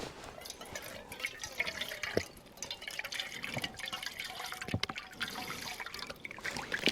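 Water, 200 millilitres, pours steadily into a hiking stove pot, a continuous trickling splash with a faint metallic ring, heard close up and alone.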